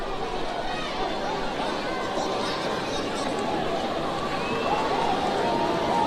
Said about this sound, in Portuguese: E a torcida faz a festa ali na arquibancada